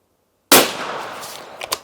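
Single sharp rifle shot from a Sauer 505 firing CX bullets at a 100-yard range, a loud crack after silence followed by a decaying echo and a couple of faint clicks.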